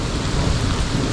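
Loud, close rumble of a thunderstorm with heavy rain pouring steadily over East Texas bass-fishing water, a dense unbroken roar through the whole short stretch.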